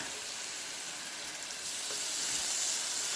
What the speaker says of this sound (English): We got the sizzle going on.